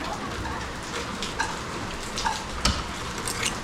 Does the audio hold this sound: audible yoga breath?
no